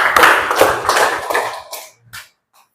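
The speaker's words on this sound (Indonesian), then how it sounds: "tepuk tangan untuk Hilman" A classroom of people claps together in a brief burst of applause that quickly thins out to a few scattered final claps.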